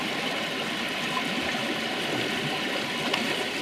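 Water rushes out steadily through the waste valve of a koi pond filter, a continuous close hissing flow that holds even from start to end with no voices.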